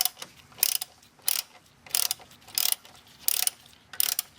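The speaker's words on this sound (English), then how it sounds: "So using 10mm socket with a ratchet, make it loose, control clockwise." Ratchet wrench with a 10mm socket loosening a bolt during an oil change on a Lexus IS300, five short bursts of rapid clicking spaced about a second apart, close and crisp with quiet gaps between.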